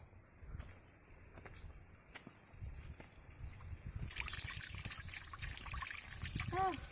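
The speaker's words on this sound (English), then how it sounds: "Wash my face." Water trickles and splashes close by as someone washes their face outdoors during a mountain walk, starting faint and becoming louder and more continuous in the later seconds.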